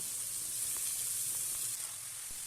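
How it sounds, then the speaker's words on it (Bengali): Chopped cabbage fries in oil with potatoes and peas, giving a steady, even sizzle throughout with faint crackles and no voices. "এইভাবে আলুর সাথে তেলের মধ্যে ভালো করে ভাজা ভাজা করে নিতে হবে"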